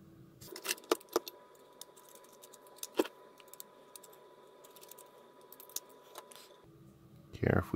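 A cheap condenser microphone is unscrewed and taken apart, with sparse small metallic clicks and taps of screws and parts up close, followed by a brief rustle at the end.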